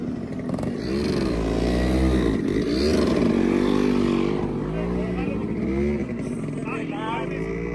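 Several Yamaha RX two-stroke motorcycles ride past together, their buzzy engines revving and rising and falling in pitch, loud and close, with people talking over the engine noise.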